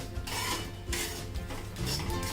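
Mustard seeds spluttering as cumin and shahjeera roast in hot oil over medium heat for an onion-garlic masala, giving a steady close crackle and rasp with brief louder bursts of popping.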